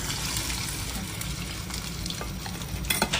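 Falafel made from chickpeas and fava beans, sprinkled with sesame, fries in hot oil, giving a continuous loud, close crackling sizzle with a few sharper bubbling pops near the end.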